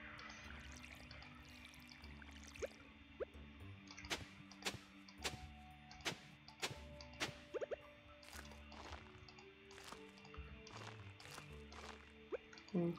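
Crops being watered with a watering can in the farming video game Stardew Valley, repeated short sharp splashy drip effects at irregular intervals over a quiet background of soft game music.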